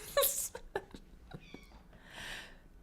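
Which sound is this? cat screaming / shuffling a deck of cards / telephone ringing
cat screaming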